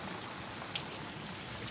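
Steady rain falls on a swampy island survival camp in a muddy gully, a constant close hiss of drops with no voices and one brief sharper tap partway through.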